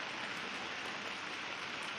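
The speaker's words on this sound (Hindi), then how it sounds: "अभी ये बारिश फिर स्टार्ट हो गई है और बहुत तेज़ हो रही है" Heavy rain pours down outdoors in a steady, dense hiss of drops striking surfaces, unbroken and fairly faint, with no voices.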